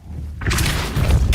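A Depulso spell is cast in Hogwarts Legacy, bursting in as a sudden broad whoosh and heavy thump after a quiet start, followed by a sustained rumbling release with another thud near the end.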